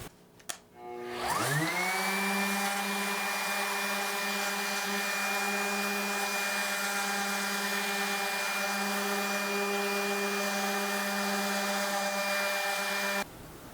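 A power sander strips black paint from a routed wooden sign, spinning up quickly and then holding a loud, steady whine with a constant tone for more than ten seconds before cutting off.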